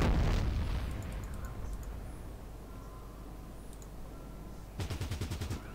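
Gunfire in the tactical game Fallout Tactics: a loud opening burst, then a quieter stretch of game ambience, then a rapid automatic volley of about half a dozen shots near the end.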